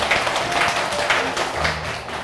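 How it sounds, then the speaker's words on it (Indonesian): Studio audience clapping for a young girl named Joanna on an Indonesian TV drama set, a dense steady patter of many hands, moderately loud and continuous without speech. "Tepuk tangan buat Joanna."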